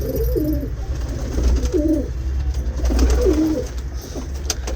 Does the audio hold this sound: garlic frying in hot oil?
no